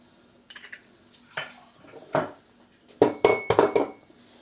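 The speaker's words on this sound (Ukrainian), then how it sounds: "Два яєць сюди вбиваємо" Two eggs are cracked into a bowl: sharp clinks and taps of shells against the bowl, a few scattered knocks followed by a quick cluster of cracks, close and fairly loud.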